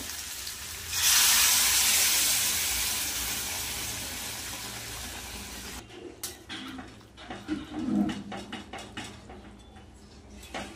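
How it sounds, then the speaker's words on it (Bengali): Hot water poured into a pot of chicken being cooked down (chicken kosha), a loud rushing splash that hisses and fades, then gives way to clinking and stirring sounds. "এবার গরম জলটা দিয়ে দেবো, খুব বেশি না, অল্পই দেব।"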